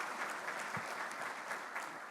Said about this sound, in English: Could we give them a round of applause for their leadership